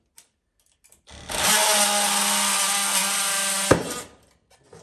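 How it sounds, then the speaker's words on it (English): Oscillating multi-tool blade cutting through a bolt on a 1998 Ski-Doo Summit 670 snowmobile, a loud buzzing whine that starts after a few faint clicks, holds steady for about three seconds and then cuts off abruptly. "Taking the multi-tool blade to the bolt."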